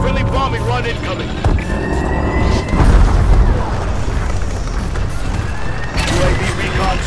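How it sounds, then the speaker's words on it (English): Explosions from a friendly bombing run in a video game land as deep booms and rumbles amid steady battle noise, while voices call out over the action. "Friendly bombing run incoming"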